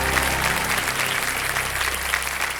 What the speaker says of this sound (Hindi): जोरदार तालियां बजते हुए देने सबने।